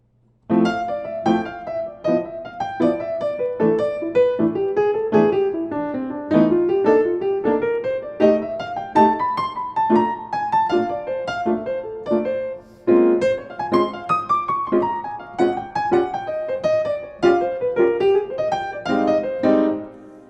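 A solo piano improvises a running jazz line on the bebop scale, quick, flowing notes over chords, winding up and down in steady phrases.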